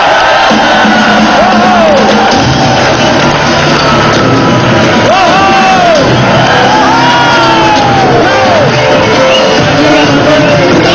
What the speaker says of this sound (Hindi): एक बार जोरदार तालियों से स्वागत होना चाहिए मिस्टर वसीम अकरम का।